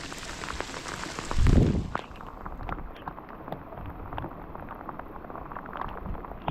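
Steady rain falls during a fishing outing, a dense, even patter with a louder low thump early on. No one speaks.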